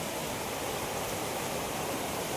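River water rushes under a small bridge, a loud, even broadband roar that stays constant with no other sounds.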